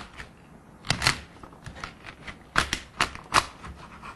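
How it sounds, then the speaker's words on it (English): A knife chops the ends off vegetables on a cutting board, a handful of crisp, close chopping thuds spaced irregularly over a quiet kitchen background, with no talk. "just going to chop the ends off of these, which is always a good idea with this type of veggie"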